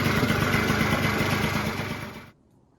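A 1989 Yamaha Prebug 70cc scooter engine runs on its own at a steady, buzzing idle, close and fairly loud, then cuts out abruptly to near silence at the end.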